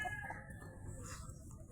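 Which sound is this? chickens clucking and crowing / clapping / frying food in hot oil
chickens clucking and crowing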